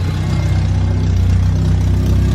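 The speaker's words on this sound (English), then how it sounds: "Oh, that is the exhaust leak. There's a hole." A K20-swapped car engine runs steadily with an exhaust leak from a hole, giving a loud, low, rumbling drone with a raspy puffing pulse throughout, close by and without talk.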